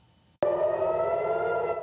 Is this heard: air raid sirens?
yes